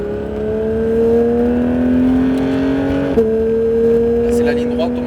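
Porsche GT3 accelerating out of a corner on a race track, its steady engine note climbing in pitch, dipping briefly at a gear change, then pulling again, loud and close with talk over it.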